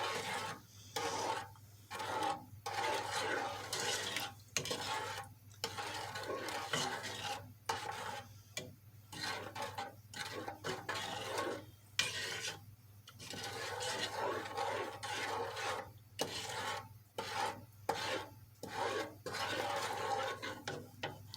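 Peanut brittle mixture being stirred in a pot at the stove, a continuous rhythmic scraping and rubbing of a spoon through the thick candy, fairly quiet and close.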